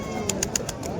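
Pigeons coo at Beldanga bird market, a few short, bright coos in a quick string over a steady murmur of market chatter.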